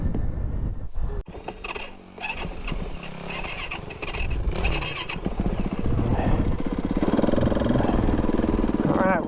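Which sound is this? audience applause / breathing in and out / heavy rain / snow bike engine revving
snow bike engine revving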